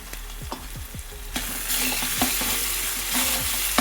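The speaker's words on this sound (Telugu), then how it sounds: "స్పూను అల్లం వెల్లుల్లి పేస్ట్ వేసి కొద్దిగా పచ్చివాసన వేయదాకా వేయించుకుందాం" Ginger garlic paste fries in a hot pan with a loud, continuous sizzle. Several quick scraping stirs cut through it, and the hiss swells partway through.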